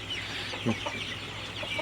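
Broiler chickens on a poultry farm in hot, humid weather give a few soft clucks over a steady background hum.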